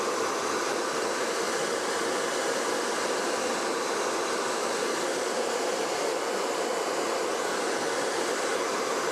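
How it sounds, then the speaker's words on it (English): A hairdryer blows hot air onto stickers on a motorcycle tank, giving a steady, loud whooshing hiss that runs unbroken from start to finish with no voices. "I'm going to use a hairdryer and try and heat them up"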